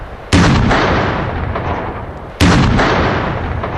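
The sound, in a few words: explosion demolishing German WWII concrete anti-landing block on beach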